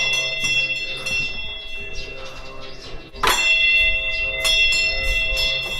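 Small bells on turning prayer wheels at a temple in Bhutan ring in a continuous shimmering jangle, with a brighter clang near the middle, close and steady.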